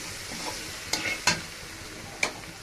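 A spoon stirs a vegetable bhaji of long beans, potato and cauliflower in a pan, giving a few sharp scraping clacks over a soft, steady sizzle, close and with no talking.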